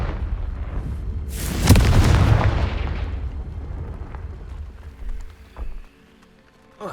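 A Confringo fire spell explosion in the video game Hogwarts Legacy, a loud booming blast with a crackling burst that rumbles and fades over a few seconds, followed by scattered smaller thuds and debris sounds.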